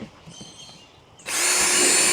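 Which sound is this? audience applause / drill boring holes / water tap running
drill boring holes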